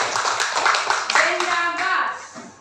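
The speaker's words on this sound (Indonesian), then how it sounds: "Udah, tepuk tangan." Children clap their hands together in a classroom, a burst of fairly close, dense clapping that tapers off toward the end, with faint voices mixed in.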